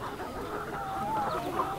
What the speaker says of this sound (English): There's about 200 chickens in here all together.